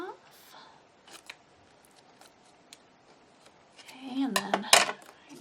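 Scissors cutting around a paper mermaid tail bookmark, a few sparse snips and then a louder cluster of rustling cuts near the end, heard up close.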